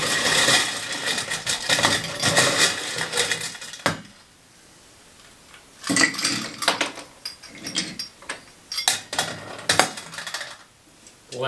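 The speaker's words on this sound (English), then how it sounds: "And then we put in some more ice." Ice cubes clattering and rattling into a glass while a cherry Valentine's cocktail is made, loud bursts of clinking separated by short pauses, with no talk.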